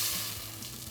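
A steady, close hiss of liquid sizzling as poaching liquid for a Vietnamese chicken pho goes into a hot pan, a brief continuous fry-like rush with no voices.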